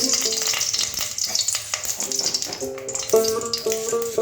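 Oil heating and frying in a hot kadai: about two spoons of oil, about to take whole cumin seeds and a bay leaf for a restaurant-style egg curry. A steady, bright sizzle hisses close by under background music with sustained tones.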